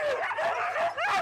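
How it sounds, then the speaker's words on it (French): Siberian husky sled dogs, a pack of around thirty being let out, yipping, whining and barking together in an excited, continuous chorus close by. "Elle libère sa trentaine de chiens de traîneau, des huskies de Sibérie."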